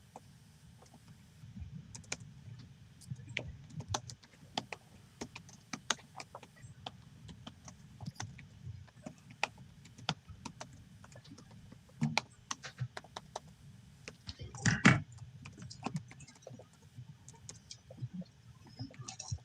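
Computer keyboard typing, scattered clicks and quick bursts of keystrokes at close range, fairly quiet, with a denser flurry near the end over a low room hum.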